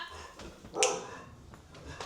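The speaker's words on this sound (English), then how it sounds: "they only want to bark when I'm literally on live." Dogs at home make short yips and whimpering barks, one sharp, louder bark in the middle standing out against quieter sounds, with no voices.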